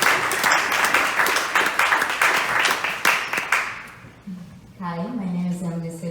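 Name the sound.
audience applause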